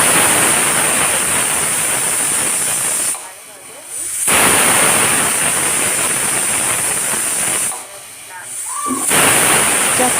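A pressure cooker boiling vegetables over a medium gas flame lets out loud, steady steam hissing, broken twice by brief drops to near quiet before the forceful whistle-like rush resumes, close and alone.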